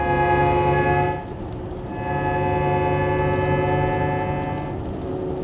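A ZEEKR 7X electric SUV emits its simulated coasting sound after the accelerator is released: a steady layered synthetic drone of stacked tones that dips briefly, then swells back and holds, with no talking.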